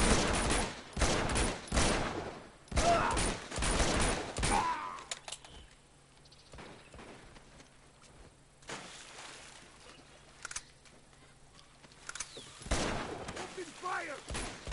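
Bursts of automatic gunfire in an Uncharted 2: Among Thieves firefight come in loud volleys at the start, fade into a quieter stretch, then return near the end, with voices shouting now and then.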